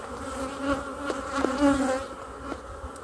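Honeybees buzzing close up on a brood frame lifted out of the hive, a dense continuous hum with a few louder passes of single bees near the ear.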